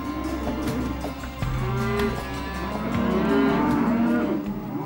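Cattle herded by gauchos on horseback in Tierra del Fuego, several cows lowing in overlapping, drawn-out moos at moderate distance, with no speech.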